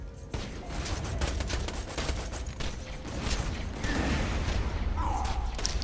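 Repeated pistol gunfire in Borderlands 2, shots cracking in quick succession amid mechanical clunks and game noise, fairly loud and continuous.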